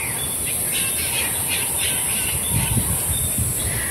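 Repeated squawking bird calls sound over steady background noise, several birds calling in short bursts throughout.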